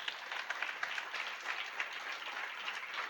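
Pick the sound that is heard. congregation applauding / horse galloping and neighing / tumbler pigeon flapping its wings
congregation applauding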